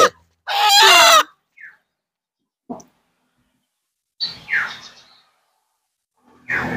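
Clucking and squawking of a native Bangladeshi chicken being given an RDV vaccine, one loud clear squawk followed by a few short, scattered calls and gaps of silence.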